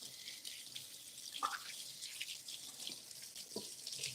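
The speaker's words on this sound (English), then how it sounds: "I got to rinse my hands off" A kitchen tap runs steadily while hands are rinsed beneath it, the close water hiss broken by a few splashy changes in the flow and no speech.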